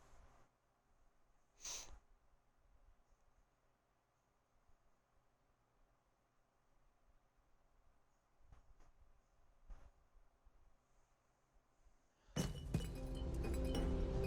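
In the Starfield video game, scattered faint clinks and ticks give way to a sudden loud crash of breaking glass near the end. The shattering is dense and bright, and it is still going at the cutoff.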